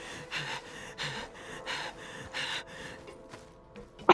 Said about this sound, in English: My god, having to deal with the traveler fucking panting.